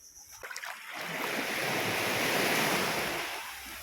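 Small sea waves wash onto a beach in Sibutu, a steady broadband surf that swells in from a quieter start and holds loud and close for a few seconds before easing slightly, with some wind noise on the microphone.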